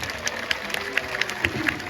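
Audience applause at a seal and sea lion show at Hersheypark, a steady patter of many clapping hands heard from a moderate distance with some crowd noise.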